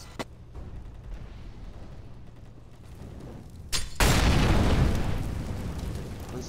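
A flashbang grenade detonates in Counter-Strike: Global Offensive, a sudden loud blast after a brief quiet stretch, followed by a sustained bright ringing hiss that slowly fades, with no talking.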